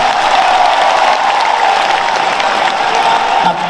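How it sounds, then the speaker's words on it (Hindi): Crowd at a Hindu religious gathering clapping together, a dense, continuous wash of hand claps at close range, steady and loud throughout the clip. "खुद ताली बजा लो अपने हाथों से।"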